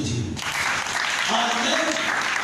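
A church congregation breaks into applause, dense continuous clapping filling the room after a spoken line, steady and fairly loud with a voice briefly audible at the start.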